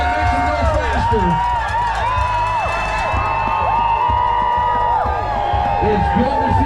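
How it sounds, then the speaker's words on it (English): A lively outdoor crowd at the Trenary Outhouse Classic outhouse race cheers steadily, with whoops, high shouts and yelling voices rising and falling over a constant roar of spectators. "Give a big cheer as they come along and make them go faster."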